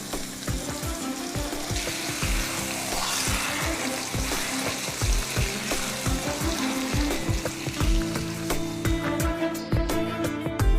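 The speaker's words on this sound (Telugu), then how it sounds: "స్టవ్ సిమ్లో పెట్టుకొని 2 నిమిషాలు ఉడికించుకోవాలి." Ground tomato pickle cooking on low heat in a pan on the stove, giving a steady close sizzle with scattered pops and stirring scrapes that run through the whole stretch.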